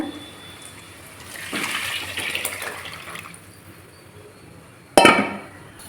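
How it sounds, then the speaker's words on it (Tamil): Dissolved tamarind-style broth poured into a pan of tempered fried garlic for a pepper kuzhambu, a rising hissing gush of liquid hitting hot oil, followed by a sharp clatter near the end. "இப்போ வந்து நம்ம கரைச்சி வச்சுருக்க குழம்பு வந்து இதில் சேர்த்துடலாம்"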